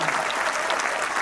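A crowd at a live Hindi comedy stage show breaks into hearty applause, a dense, loud burst of clapping that holds steady through the short moment.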